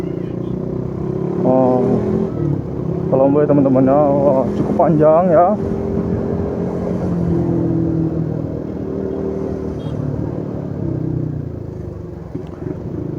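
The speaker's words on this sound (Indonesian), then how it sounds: "Wah, ini ramai sekali nih mobil-mobil mudik" Busy holiday traffic of cars heading home for Eid on a Sumatran highway, a dense rumble of engines with motorcycles and vehicles passing, while someone talks over the noise for the first half.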